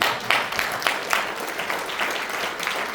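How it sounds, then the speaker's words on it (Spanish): A church congregation applauds during a Spanish-language sermon, a moderately loud wash of many hands clapping with a few sharper accented claps standing out, steady for the full few seconds. "¿Puede darle un aplauso al Rey?"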